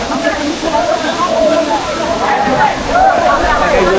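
Hoichora waterfall near Chattogram, Bangladesh, rushes in a steady broadband hiss that runs unbroken underneath people talking close by.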